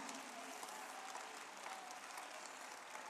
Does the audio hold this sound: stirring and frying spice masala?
no